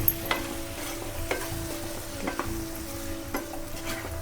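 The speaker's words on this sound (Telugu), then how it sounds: "టమాటాలు వేసుకొని కలుపుకుందాం" Thinly cut tomatoes sizzle in a pan for a tomato egg curry while a spoon stirs them, making a steady close hiss with regular scraping knocks every second or so. No one speaks.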